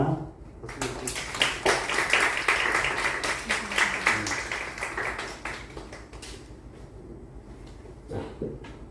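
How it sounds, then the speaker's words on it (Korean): A church congregation claps for members' birthdays after a service, a modest round of hand claps from a small group that builds then thins out, with some murmuring voices underneath. "박수 좀 주세요"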